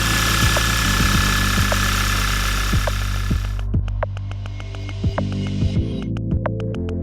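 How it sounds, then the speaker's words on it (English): A car engine running after installation of Bosch HDEV5 gasoline direct injectors, a loud steady engine hum with rhythmic ticking clicks, the sound dropping to a quieter idle partway through and continuing with sharp periodic ticks. "Start the engine and check again."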